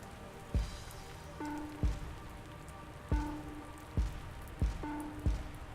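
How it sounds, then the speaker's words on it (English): Rain falls outside, heard from indoors behind a curtain as heavy drops thudding irregularly on a nearby surface over a soft, continuous background patter. "I'm hiding behind this curtain because it's raining outside."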